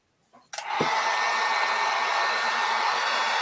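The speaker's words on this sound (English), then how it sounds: "So I'm just going to dry it a bit with the heat gun." A heat gun drying a coat of milk paint switches on after a moment of quiet and settles into a loud, steady blowing roar that continues unbroken to the end.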